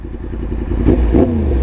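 A motorcycle exhaust, from a Honda CB650R or Yamaha MT-10, burbles close by and revs twice in quick succession, a throaty rumble with brief rising pulls.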